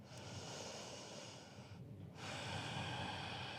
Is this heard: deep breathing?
yes